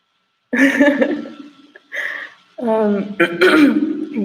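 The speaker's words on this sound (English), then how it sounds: "Clear my throat real quick." Someone clears their throat in a few short, raspy bursts separated by brief pauses, close and fairly loud.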